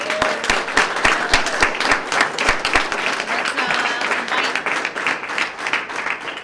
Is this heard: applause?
yes